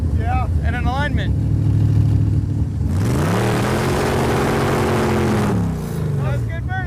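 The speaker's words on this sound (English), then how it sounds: "That's good burnout." A loud 1985 Corvette C4 engine roars and revs hard during a burnout, rising and falling pitch, tire-spinning noise swelling in the middle, while people talk over it at the start and end.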